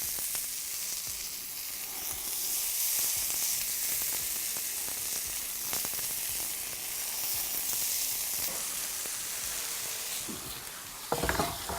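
Fat strips of smoked bacon frying in a pan, a steady close hiss and crackle running throughout with small pops, ending in a few louder handling clatters.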